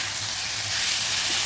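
Kechki fish sizzling and frying in a pan while being lightly stirred, a steady close hiss with soft scraping underneath and no voices.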